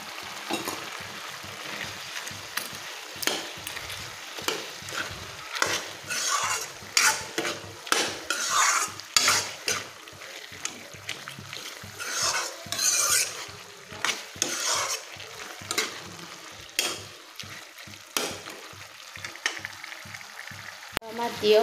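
Fish frying in a pan with khar, a traditional alkaline preparation, while being stirred: scraping spatula strokes and rasping scrapes repeat steadily over a soft sizzle, close and fairly loud throughout.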